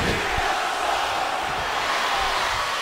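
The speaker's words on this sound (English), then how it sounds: "you can hear the crowd being very vocal about their opinion of John Cena" A wrestling arena crowd at a Smackdown event roars loudly and steadily throughout, a dense wash of shouting and chanting that reads as strongly vocal and split in its reaction to John Cena.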